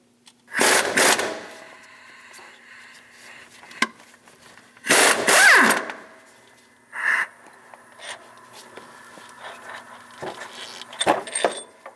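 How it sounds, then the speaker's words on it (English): A 24mm socket breaks loose and spins out a crank pulley bolt on a 2003-2025 Chevrolet Express, heard as several loud, short grinding bursts of an impact tool, with faint clicks and taps between them. "Using a 24mm socket, remove the crank pulley bolt."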